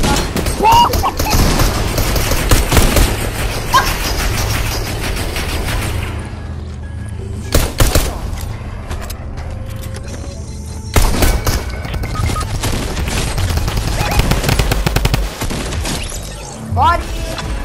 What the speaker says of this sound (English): It's a shotgun, I know. He had Midas' drum gun.